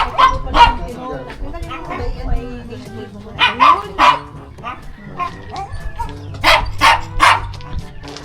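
Several dogs barking around a house with a native hut nearby, repeated sharp barks and yips in bursts, close and loud, with some whimpering and people talking in between.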